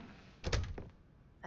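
A door in the video game The Stanley Parable gives a heavy thud followed by a softer knock, close and brief, with a short burst of voice just after.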